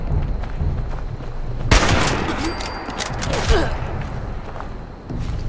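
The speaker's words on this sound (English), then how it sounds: "I can shoot you. I shoot you." Gunfire in the video game Fallout 76, a sudden loud burst of rapid shots and sharp metallic cracks over a rumbling game background, close and dense for several seconds.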